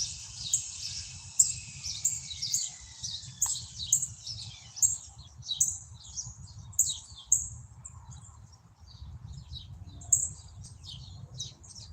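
Morning birds chirping outdoors, rapid high twittering calls repeating in bursts throughout, fairly close, over a low rumbling background with no talking.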